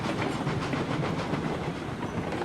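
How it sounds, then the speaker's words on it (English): Train running in Railroads Online, a steady rumbling roll with rhythmic clickety-clack pulses, loud and close with no voices. "driving 2 trains"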